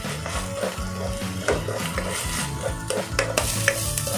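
Ground onion fries in a pan while being stirred, with a steady sizzle under repeated scraping and clinking of a spoon against the metal, close and continuous.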